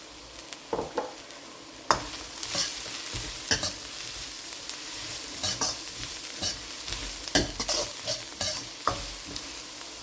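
Leek stir-fried in a pan for chicken koththu sizzles steadily, broken by repeated sharp scrapes and clacks of a utensil stirring at irregular intervals, close by and with no voices.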